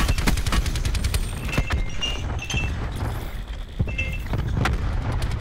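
A grenade blast and gunfire in a shooter game on the Alcatraz map, rapid sharp shots in a steady run with heavier thuds mixed in, loud and close, no talk.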